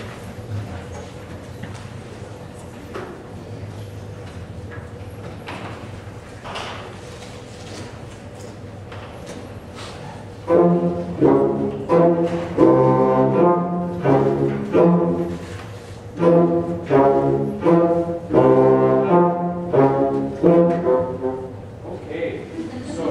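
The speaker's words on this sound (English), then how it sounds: "we're going to have some low instruments played, and they're going to be the bass clarinet," Low band instruments, including bass clarinet, bassoon, baritone horn, horn and tuba, play a few measures at a children's concert. Soft background murmur gives way to loud, rhythmic, detached low chords repeating in a steady pulse.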